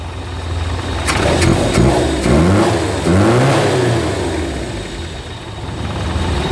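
A Suzuki Zebra 1.3 with a carbureted engine revs up several times in quick succession, each rise and fall in pitch loud and close, then settles back toward a steady idle with no talking.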